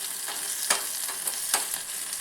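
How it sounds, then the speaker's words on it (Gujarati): Ginger-garlic paste and onions sauté in hot oil, giving a steady close sizzle with a few brief stirring scrapes and no talk. "તેને પણ સાતળી લઈએ"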